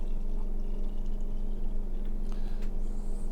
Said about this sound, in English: I was looking at it as I was pouring